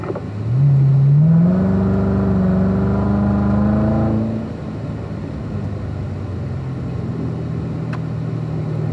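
A Corvette driving fast on the Spring Mountain racetrack, its engine note climbing loudly as it accelerates, then dropping off into a steadier, softer drone.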